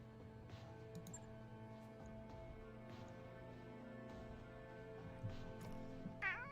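A house cat meows, a short high call near the end over a steady low electronic hum.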